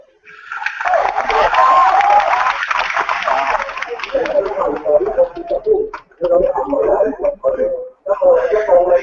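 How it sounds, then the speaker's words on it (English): A crowd at a Hong Kong street protest cheers and claps in a broad, loud swell that later breaks into uneven bursts, with voices and amplified talk running through it. "Cheering and clapping."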